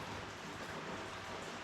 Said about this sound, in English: Is the rain making you that scared